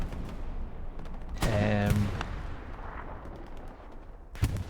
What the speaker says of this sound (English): as soon as I start to watch him, he gets pounded by artillery